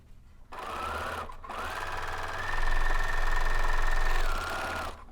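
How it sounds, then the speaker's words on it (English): A Bernina L850 serger whirs in fast, steady bursts as it stitches quilt fabric layers, stopping briefly, then running again with a louder, deeper hum before easing off. "Come back to the serger and just stitch them together."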